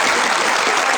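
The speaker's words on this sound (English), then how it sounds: "Why ain't get a clap?" A brief burst of dense audience applause, a loud continuous wash of many hands clapping at once.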